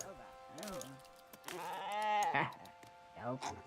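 Sheep bleating in a video game, several wavering bleats in a row, close and fairly loud, with game sounds and a voice mixed in between.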